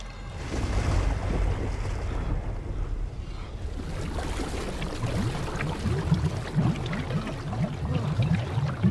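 Water surges and rolling waves wash through an endless underground pit in The Evil Within 2, a loud, continuous churning roar with wind-like rumble and swelling, splashing low surges throughout.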